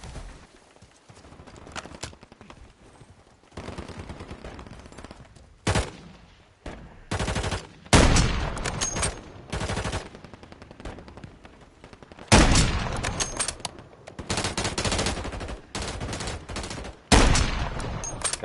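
Gunfire in a video game shooter comes in repeated rapid bursts, loud and close, separated by quieter stretches of background game noise.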